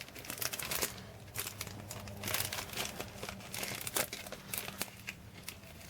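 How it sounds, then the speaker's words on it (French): Plastic packaging from a Temu parcel crinkles and tears in bursts as a small purchase is unwrapped by hand, close and fairly loud with short pauses between handfuls. "Je le déballe également"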